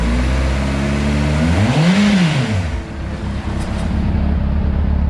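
Honda CBR600RR motorcycle engine running loud and close, its idle rising into one quick rev that peaks and falls back to a steady rumble.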